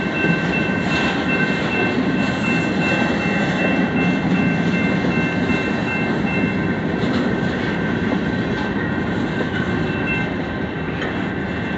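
A train rumbles past continuously, a loud, steady roar of rail wagons with faint clicking and a high metallic whine, close by and without talk for the whole stretch.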